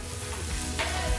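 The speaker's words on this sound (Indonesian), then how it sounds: "Kita akan goreng sampai kulit dari perkedelnya ini berubah warna menjadi coklat keemasan" Mozzarella-stuffed potato perkedel fritters frying in hot oil, a steady close sizzle and crackle with a brief stir-like burst partway through, no talking.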